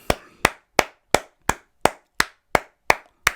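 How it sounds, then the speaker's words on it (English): Ten sharp, evenly spaced hand claps ring out one at a time at a slow, steady beat, each loud, close and crisp with silence in between. "So let's give that one a big round of applause"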